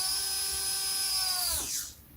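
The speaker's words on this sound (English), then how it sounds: "The motor is now mounted, and I thought before I glue it in and it becomes inaccessible, let's test it." An electric motor for an RC model aircraft, freshly mounted, runs on a bench test with a loud, steady high-pitched whine that then winds down quickly as it spins to a stop.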